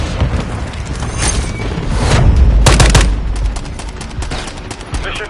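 Gunfire in Modern Warfare 3 multiplayer, a loud barrage of rapid shots and booming impacts that swells in the middle and tails off, with faint game voice chatter underneath.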